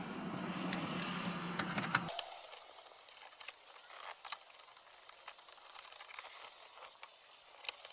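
A screwdriver drives screws back in while a Lincoln MKZ dash is reassembled, a short close whirring burst at first, then scattered faint clicks and taps in a quiet cabin.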